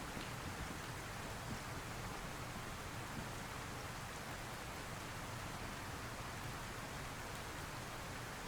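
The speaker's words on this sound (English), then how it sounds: "It is raining cats and dogs" Heavy rain pours steadily in the DayZ survival game, a dense, unbroken hiss of downpour that stays loud and even throughout with no voices over it.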